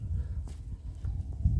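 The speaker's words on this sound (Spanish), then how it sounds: "Por ahí viene Don Teodoro ya con el caballo" Slow, irregular hoof clops of a horse walking nearby over a low rumbling background, with no talking.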